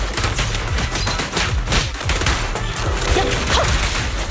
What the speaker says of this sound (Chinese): 持续射击。